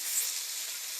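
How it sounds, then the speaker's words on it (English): Steak frying in a pan, a steady bright sizzle heard close and alone for about a second. "how good does steak smell when it's cooking"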